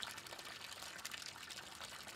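Water runs down through pipes in a village neighbourhood, a faint, steady trickling and pouring with soft splashy texture and no break.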